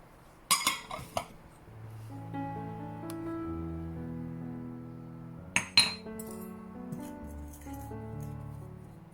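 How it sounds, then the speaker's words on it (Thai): Flour, sugar and cinnamon are stirred together in a bowl for a streusel topping. A few sharp clinks of a utensil against the bowl open the stretch. Quieter scraping and mixing follows, with another brief burst of clinks midway. "เอาแป้ง น้ำตาลแล้วก็ซินนามอนผสมผุกเขาให้เข้ากันค่ะ"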